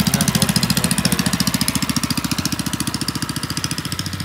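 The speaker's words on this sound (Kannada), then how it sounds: "ಇನ್ನೊಂದು ಬೋಟ್ ಹೋಗ್ತಾ ಇದೆ" A motor boat engine chugs steadily on the Mekong Delta river, with a low rhythmic putter and wind or water noise throughout, close and continuous.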